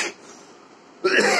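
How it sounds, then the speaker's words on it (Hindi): A man coughs in short harsh bursts, one fading at the very start and another louder one breaking out near the end, with a quiet indoor pause between. "खांसी आ रही है"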